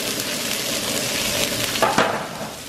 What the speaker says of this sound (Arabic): الآن تقلب جيدا على النار تقليب جيد.